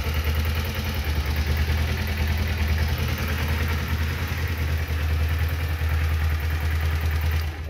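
A 2010 carbureted Kawasaki Ninja 250 motorcycle idles close by with a steady, even mid-pitched engine hum and a light mechanical clatter, holding a constant level with no revving from start to finish.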